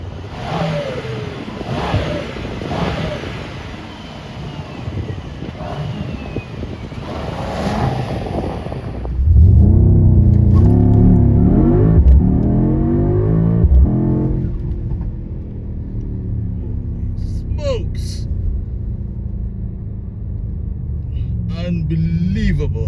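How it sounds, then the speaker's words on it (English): A 2025 Mercedes-AMG GT63 S E Performance four-door hybrid coupe accelerating hard, its engine rising in pitch through several gears with a loud, close roar that swells after a quieter opening, while someone talks. "Unbelievable how quick this thing accelerates."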